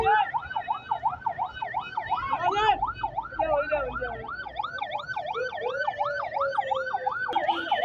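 A wailing ambulance siren cycles up and down continuously, loud and close, with traffic rumbling underneath, at a road accident scene in Pakistan.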